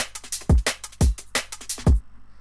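Layered snare drums hitting together in an electronic drum track, sharp punchy hits with deep low thumps in a rhythmic pattern, loud and close, ending abruptly after about two seconds.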